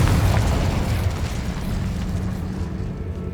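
A Confringo spell from Hogwarts Legacy bursts in a loud booming explosion that rolls and rumbles, then fades slowly into a lingering low roar.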